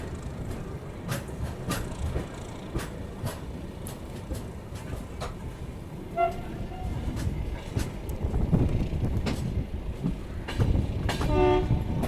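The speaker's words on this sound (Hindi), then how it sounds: "और एक लोकोमोटिव जो उधर से निकल भी रहा है" A locomotive passes close by with a steady heavy rumble and rail clatter, sounding two loud horn blasts midway and near the end, with faint voices in the background.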